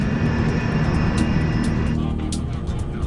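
A United States Air Force cargo plane comes in to land, its engines giving a loud, steady roar that holds for about three seconds before easing slightly, with no talk over it.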